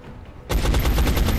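Gunfire burst in the turn-based strategy game XCOM: Enemy Unknown, a sudden loud onset after quiet, followed by a rapid rhythmic run of repeated shots.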